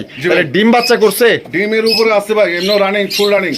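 A male and female pigeon pair coo together at a bird seller's stall, giving loud, close, throaty warbling calls that carry on continuously without pause.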